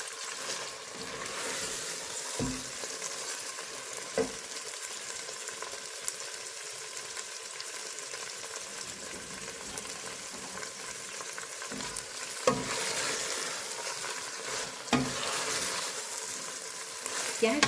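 Fresh green beans frying in a pan while being stirred, a steady broadband sizzle running throughout with occasional sharper scrapes and clatters of the utensil, close and moderately loud, no talking.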